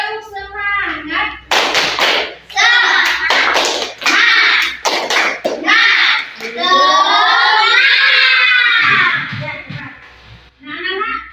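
A class of children performing the 'tepuk semangat' clap chant, rhythmic bursts of group clapping alternating with loud shouted chanting, close and energetic.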